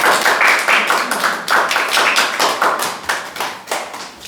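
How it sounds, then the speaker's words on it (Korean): A church congregation at a New Year thanksgiving service claps in bursts, the applause swelling and fading in uneven waves of many hands, close and fairly loud, with no voices over it. "우리 2023년 우리 예배를 지켜주신 하나님께 감사와 영광의 박수를 올려드렸으면 좋겠습니다"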